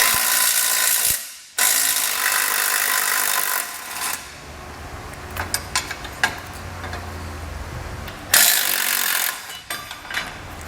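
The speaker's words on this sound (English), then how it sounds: "With 1 single bolt, we're going to need a 16mm socket." Ratchet wrench with a 16mm socket turning a bracket bolt on a 2022 Jeep Wrangler, loud rapid clicking bursts close up separated by brief pauses and a few scattered metallic taps, no voices.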